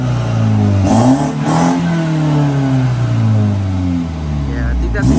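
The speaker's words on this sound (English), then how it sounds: "I'll give you a little sneak peek, a little rev. Quick little rev." A tuned 2018 BMW 330i with Dinan ignition coils gives a quick rev, the loud engine note climbing and settling as it idles close by, with people talking over it.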